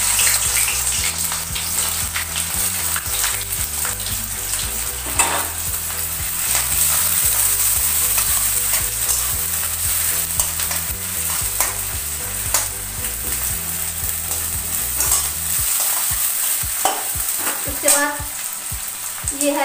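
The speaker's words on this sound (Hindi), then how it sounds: "डाल रही हूँ तेल में, भूजेंगे पहले प्याज को अच्छा करके मैं भूजूंगी।" Onions frying in hot oil for palak paneer, a continuous sizzle with scraping stir strokes at regular intervals, close and fairly loud, with no talking.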